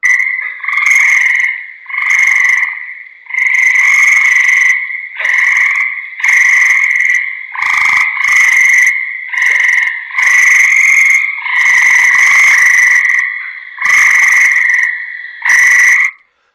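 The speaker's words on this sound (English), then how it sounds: "So here's a tree frog. You've heard this before. A gray tree frog" A gray tree frog calls loudly and close, a series of around eleven musical trills, each lasting about a second or more and separated by short pauses, with no voices.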